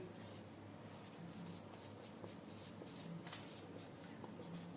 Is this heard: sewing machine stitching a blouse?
no